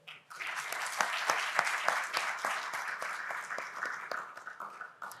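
A conference audience claps warmly to welcome a panelist onto the stage at a panel discussion, steady dense applause lasting several seconds with scattered individual claps standing out.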